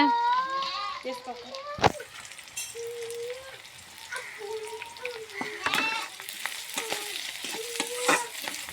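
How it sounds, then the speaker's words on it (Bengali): Onion and garlic frying in oil in a home kitchen, a steady close sizzle with repeated scraping stirs of a spoon against the pan, while someone talks over it and children can be heard faintly nearby. "আমরা পেঁয়াজ রসুনটা ভাজে নিচ্ছি"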